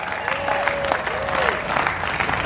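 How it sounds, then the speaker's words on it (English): Concert audience at an Arlington, Texas venue claps steadily for volunteers, a dense, even patter of applause from a crowd with a few scattered voices, lasting a couple of seconds. "Can we give our volunteers a big round of applause?"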